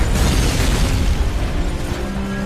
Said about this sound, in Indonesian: Dan tempat itu pun meledak dengan keadaan porak-poranda.